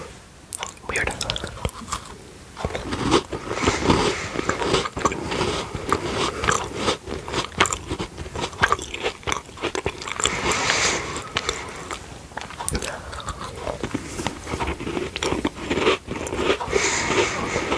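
A cream-filled chocolate biscuit being bitten and chewed right at the mic, a steady dense run of crunchy, crumbly mouth sounds with soft whispering woven through.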